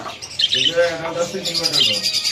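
Japanese budgerigars chatter and squawk in a busy bird shop, a steady stream of high chirps running beneath people talking nearby.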